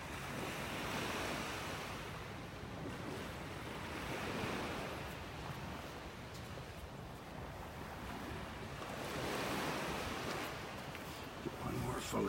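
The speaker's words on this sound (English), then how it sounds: "Now let's keep walking up the beach." Waves break and wash along a beach in North Naples, Florida, swelling and fading in slow surges, with wind noise rushing over the microphone.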